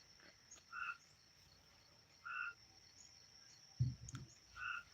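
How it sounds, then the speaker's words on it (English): A frog croaks in short, faint chirping bursts repeated about every second and a half over a quiet outdoor hiss, with one dull thump near the end and no talking. "That's a frog."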